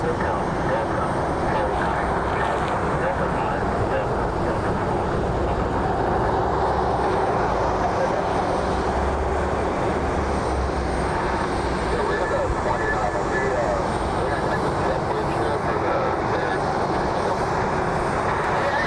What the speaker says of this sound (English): 737-900 here for Delta Airlines